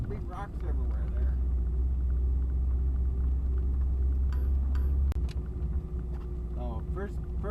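An off-road vehicle crawls in first gear of a 6-speed over rocky ground near Windy Ridge, Mount St Helens, giving a steady low engine drone throughout, with brief clunks and a voice talking intermittently over it.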